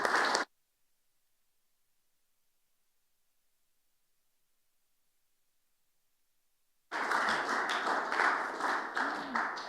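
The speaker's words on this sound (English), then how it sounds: "we should give them all a massive round of applause in their absence" A school chapel assembly applauds scholarship winners: a short burst of clapping, then several seconds of near silence before a crowd's applause returns, full and sustained with dense hand claps from many people.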